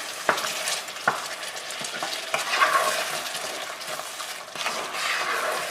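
Onions for butter chicken sauté in a pan with a little water, giving a continuous bubbling sizzle near at hand, with occasional clinks and scrapes from stirring and no voices.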